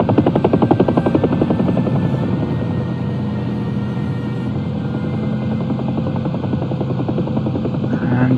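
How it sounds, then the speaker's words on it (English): UH-1 Huey helicopter setting down in DCS World: a loud, close, rhythmic rotor thump with a buzzing turbine drone, steady throughout and alone, without talking. "And just pop the Huey down here, a little gently."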